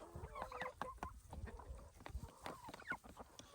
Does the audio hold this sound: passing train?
no